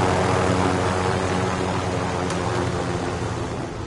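Steady roaring drone of helicopters in Warzone, a loud continuous rotor and engine wash close by, without voices.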